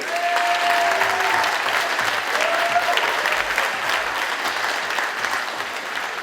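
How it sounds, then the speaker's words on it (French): Loud, sustained applause from a theatre audience after a stage performance, dense clapping that holds steady throughout and fades slightly toward the end. "Je demande d'applaudir René."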